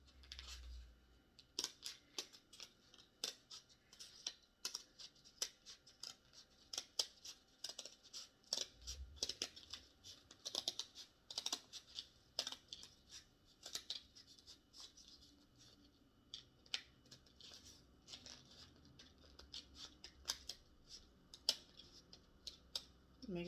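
Scissors cutting paper for a mirror art project, a long run of close, crisp snips and rustles at an irregular pace with pauses.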